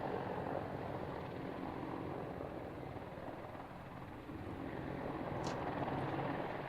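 AH-64 Apache helicopter at the Fairford air show, a steady heavy rotor and engine drone that fills the air continuously at moderate distance, with no talk over it.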